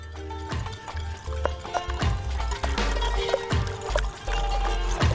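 Raw chicken pieces being stirred and turned with egg in a bowl, giving rhythmic wet sloshing and soft knocks repeating every second or so, fairly close, with no speech.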